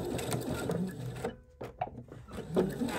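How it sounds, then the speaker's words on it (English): A sewing machine stitches a drawstring bag seam in short back-and-forth runs, a close, moderately quiet mechanical whir broken by a brief pause and clicks before resuming. "So we're just going to sew this first part first."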